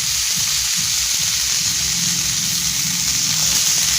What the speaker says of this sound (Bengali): আমি আরেকটা চুলায় একটু ঘি দিয়ে সেই ফুলকপিটাকে একটু হালকা হলুদ আর লবণ দিয়ে ভেজে নেব।